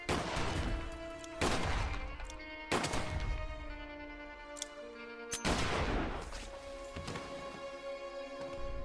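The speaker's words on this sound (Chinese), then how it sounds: "神探刚要开枪却被背后懦弱的何家安疯狂点射" Gunfire in a tense shootout from the crime film Mad Detective, several sharp ringing shots in irregular bursts, each decaying into a long metallic echo, with no voices.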